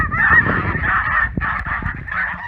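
Domestic geese honk loudly and continuously at close range outdoors in fresh snow, with overlapping calls forming a dense, raucous chorus and no talking.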